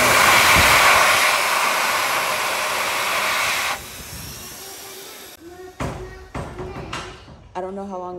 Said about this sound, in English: But then the dryer is right here.